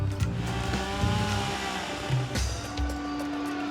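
Chainsaw trimming a big gum tree overhanging a residential property, a steady buzzing engine with pitch shifts as it revs and bites into wood, continuous and fairly close.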